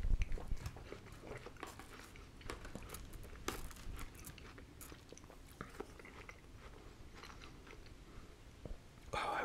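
Homemade fruit shish kabob with pineapple being eaten up close in a quiet setting, soft wet bites and chewing with occasional crunchy, juicy smacks, no talking.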